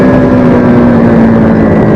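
A Yamaha R3 motorcycle engine revs loud and close, holding a steady, high, droning pull for about two seconds.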